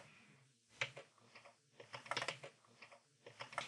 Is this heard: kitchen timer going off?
no